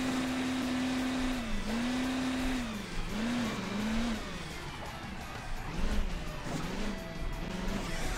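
A super diesel vehicle driving through a desert mile in Hill Climb Racing 2, its engine droning and revving with rising and falling pitch while crashes and bumps sound over game music.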